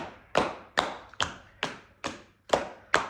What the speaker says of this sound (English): It's like clapping with your feet.